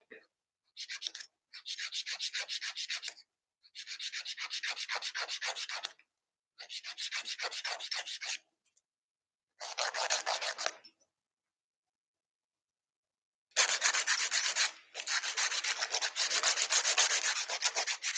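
A hand file shapes a polygel nail with no drill, giving steady close-up rasping strokes in rhythmic bursts separated by pauses, with a longer run of filing at the end.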